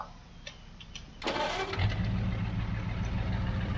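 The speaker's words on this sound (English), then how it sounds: "Always sounds like an F1 stock car starting up, this tractor does" A farm tractor in Farming Simulator 22 cranks and fires up: a brief quiet lead-in, then the engine catches with a sudden roar and settles into a loud, steady rumbling idle.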